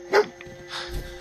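A dog in the video game Fallout 4 gives one short sharp bark up close, followed by softer whimpering noises.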